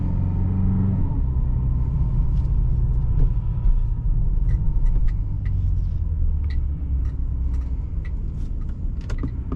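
A 2025 Aston Martin DBX 707 engine in normal drive mode, a steady deep rumble from inside the cabin with faint light clicks above it and no talking.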